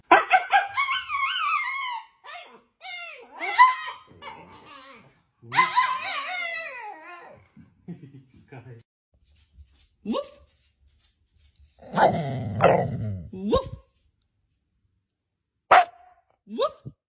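A person imitates barking at a pet dog with loud woofs and excited vocal sounds, and the dog later answers with a few short, sharp barks between quiet gaps.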